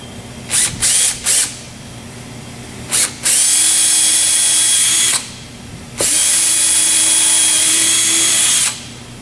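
A drill driver running #12 screws with washers into a MasterCraft boat while fitting a new sea strainer: a few short trigger bursts, then two sustained whirring runs with a pause between, close and loud with no talk.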